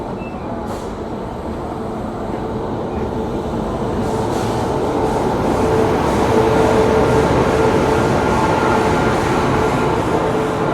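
The Patna Duronto Express pulls into Patna railway station with a close, heavy rail rumble that swells and grows louder partway through, then holds steady with faint wheel squeals and no talking.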